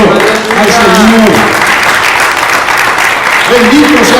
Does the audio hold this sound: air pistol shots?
no